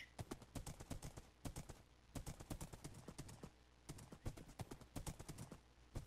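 Rhythmic clip-clop of horse hooves in Minecraft, crisp and close, trotting in steady bursts with brief pauses between runs.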